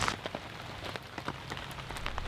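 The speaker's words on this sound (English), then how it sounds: "more rain is coming in with roughly ½ an inch forecasted" Heavy rain drums on the fabric of a NatureHike Opalus 3 tent, a dense, steady close-up patter with individual drops standing out and no one speaking.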